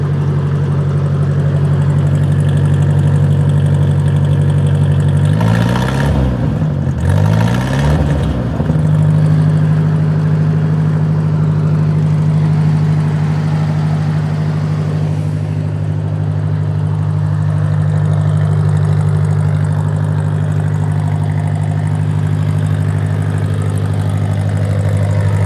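A 1953 Ford NAA tractor engine idles just after a cold start on a cool morning, a steady, loud, low chugging drone with a brief pair of revs near the start before settling back to an even idle.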